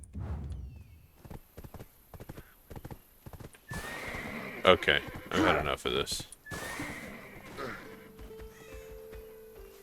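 Horse hooves clip-clop in a steady rhythm in the online game Black Desert Online, and the horse lets out loud neighs and whinnies. Someone talks briefly over the top.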